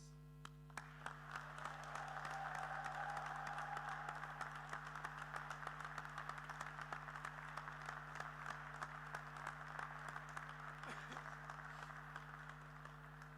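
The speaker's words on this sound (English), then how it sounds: "please join me in a rapturous round of applause and cheers" Graduation ceremony audience at Lincoln College University Centre applauding, a long, even stretch of clapping that sounds distant and quiet over a steady electrical hum, with no clear cheering standing out.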